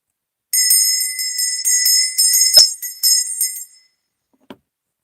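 A small brass bell rings several quick times in a bright, tinkling run, then falls silent before one faint final tap, close and clear with no talking.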